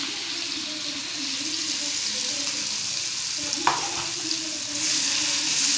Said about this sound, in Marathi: थोडी मोहरी टाकून घेते, थोडं जिरं टाकते बघा, आणि हा ठेचा तळून घेते